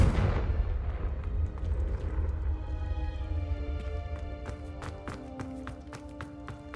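A Confringo blasting spell erupts in Hogwarts Legacy with a loud, booming burst that rolls and fades over several seconds, followed by scattered sharp taps and clicks.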